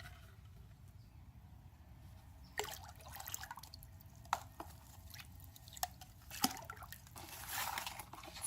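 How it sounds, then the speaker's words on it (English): Marbling solution being stirred in a bucket of water: quiet liquid swishing and soft sloshing throughout, with a few sharper clinks and splashes from the stirring tool against the bucket, close up and without talk. "we're going to add it to our bucket of water and stir it some more"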